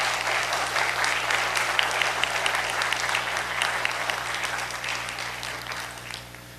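A church congregation applauds warmly and steadily during a service, dense clapping over a faint low hum, gradually tapering toward the end.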